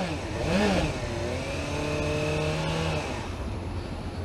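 A 2015 Suzuki GSX-S750 motorcycle engine is blipped once, rising and falling quickly, then held at a steady higher idle-like drone with a faint whine, close by and without talk.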